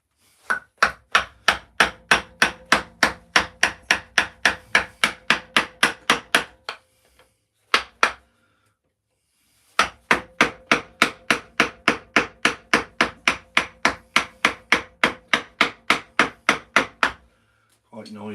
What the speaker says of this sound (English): Quite noisy with the hammer banging